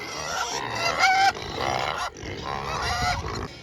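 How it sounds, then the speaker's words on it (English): Loud, chaotic squeals and honking grunts from a group of pigs, overlapping and continuous, close by with no talking. "for my pigs, who are already making a big noise"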